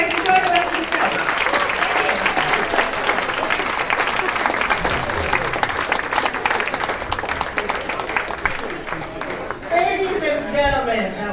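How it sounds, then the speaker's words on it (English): A live audience at a Denver radio and TV show applauds after a performer finishes, dense sustained clapping filling the room while a voice talks over it near the end. "another big round of applause, please"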